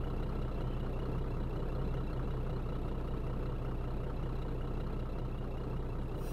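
Scania truck engine in a truck driving simulator game, a continuous low, heavy diesel drone that holds steady and fairly loud throughout, with no speech over it.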